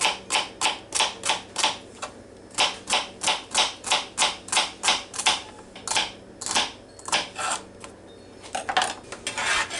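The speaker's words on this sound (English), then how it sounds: "I'm just going to cut up some celery" A knife chops celery on a cutting board in a home kitchen, a quick run of sharp, evenly spaced knocks that pauses briefly and then picks up again, close and clear with no talking.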